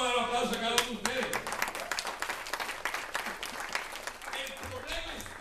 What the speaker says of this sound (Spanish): Dar un aplauso a cada uno de ustedes.